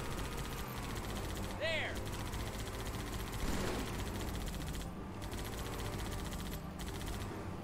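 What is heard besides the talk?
gunfire in Halo 2 video game co-op campaign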